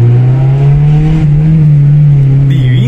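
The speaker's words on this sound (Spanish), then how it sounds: "Divino cómo quedó sonando el carro," A Honda with a new exhaust system drones at a loud, steady, deep pitch up close, holding the tone before a brief dip near the end.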